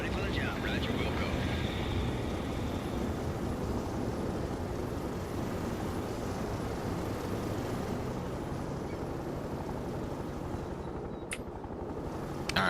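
Apache gunship helicopter in the World in Conflict war game, a steady broadband engine and rotor drone filling the whole stretch at even loudness, with game voice chatter mixed underneath.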